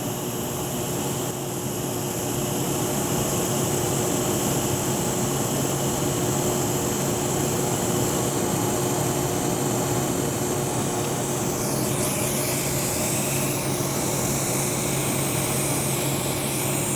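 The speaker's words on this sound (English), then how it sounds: "I'm just kind of holding it while I weld it today" TIG welding on a 304 stainless steel bend gives a steady, close hiss and hum that runs unbroken, with a slight shift in tone near the end and no talking.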